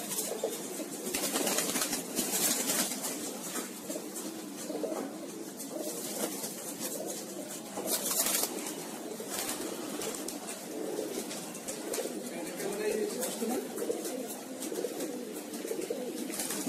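Many Giribaz pigeons kept as a hobby in a loft coo softly and steadily, with occasional wing flaps, in a continuous soft murmur of overlapping calls close by.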